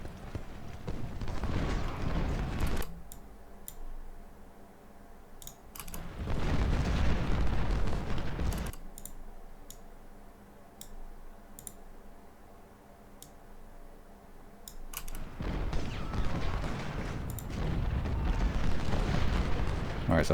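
Heavy cannon artillery booms from a Civil War battle in the Ultimate General: Civil War strategy game roll out in loud, sustained bursts, swelling and fading over a rumbling battlefield background, with a voice talking during parts of it.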